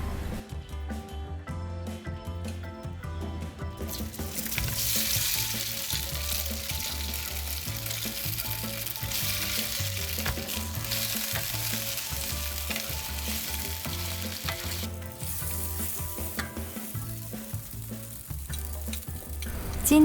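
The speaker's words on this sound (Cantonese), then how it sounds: "用3湯匙油煎香個龜格。" Rice cake pieces made from leftover rice pan-fry in about three tablespoons of oil in a wok at a Malaysian street food stall. A constant close sizzle runs under rhythmic spatula scrapes and stirring for twenty seconds, with no talking.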